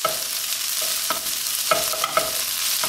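Zucchini spaghetti gets stirred into squash frying in a pan, giving a steady close sizzle with scattered scrapes and taps of the utensil and no voices.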